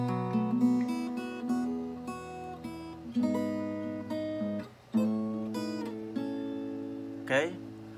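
Guitar chords are strummed one after another, each ringing out before the next, with a quick sliding note near the end.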